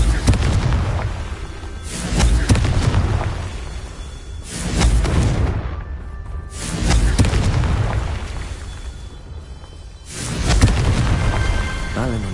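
Confringo explosion spells in Hogwarts Legacy, a series of loud, rolling fiery blasts that swell and fade in waves, each booming burst following the last with no talk over them.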